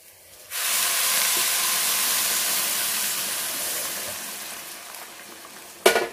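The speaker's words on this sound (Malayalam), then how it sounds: "ഇതിലേക്ക് ചൂടുവെള്ളം ചേർക്കണം." Hot water is poured onto frying rice in a pan for green peas pulao, setting off a loud steam hiss and sizzle that gradually fades over several seconds, ending with a sharp clatter.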